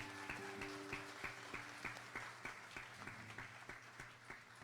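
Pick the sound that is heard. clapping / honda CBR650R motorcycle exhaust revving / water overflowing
clapping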